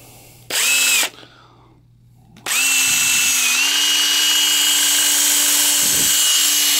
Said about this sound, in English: That's your green snap-on half-inch impact.